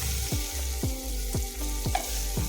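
Ambadi chutney with salt is stirred in a pan on a gas stove, a spoon scraping in a regular rhythm about twice a second over a constant sizzle of frying.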